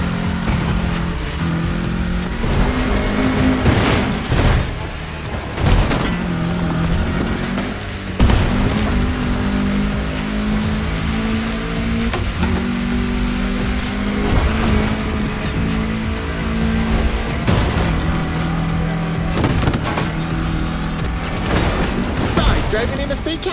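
Car engine humming and revving while driving through a state capital city in The Crew Motorfest, steady and close with periodic sharp bursts and shifts, a voice talking over it.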